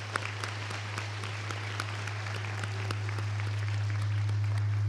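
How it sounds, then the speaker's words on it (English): A winter commencement ceremony audience applauds staff with steady, dense clapping that slowly grows louder over a low constant hum in a large hall. "Why don't you also give them a round of applause and thank them for their work?"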